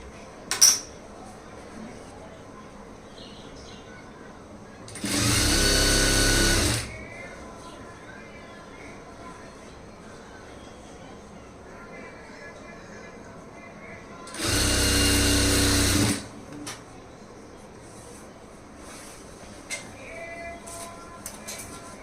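A sewing machine stitches a blouse lining straight along the armhole side, running in two separate steady bursts of about two seconds each, close and loud, with quiet stretches between them.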